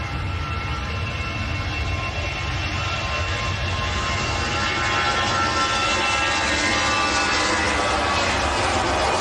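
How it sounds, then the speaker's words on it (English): An Aer Lingus airliner on its takeoff roll at Manchester Airport, a continuous loud engine roar that builds slightly over nine seconds and is heard alone without talk. "Aer Lingus on the roll."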